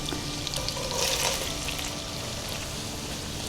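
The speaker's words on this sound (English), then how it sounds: "as it starts to sizzle, we will add the white parts of our green onions" Oil sizzles in a pan as the white parts of green onions cook: a continuous hissing fry that swells briefly, then settles to a steady level, close by with no voices.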